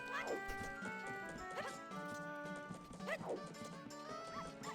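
A dog barks in the video game Majora's Mask, with several short yelping barks in an irregular rhythm over layered game music and sound effects.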